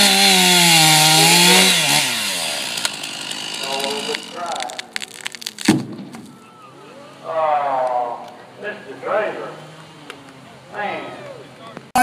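A chainsaw at a timber sports competition roars as it cuts a disc off the end of a log, loud and steady at first, then breaking into revving bursts while an announcer talks over it.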